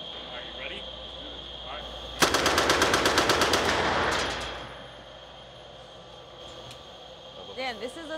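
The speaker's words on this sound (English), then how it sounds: "We're shooting the German MP40, a German submachine gun from World War II." A German MP40 submachine gun from World War II fires one loud, rapid burst of about two seconds, shots closely spaced, then a ringing fade into outdoor quiet.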